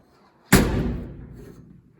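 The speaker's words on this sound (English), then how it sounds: "Let me take this out so you can see this door shutting." The door of a 1953 Chevy shop truck with new weatherstrip slams shut once, close and loud, with a sharp thud that rings down over about a second and a half.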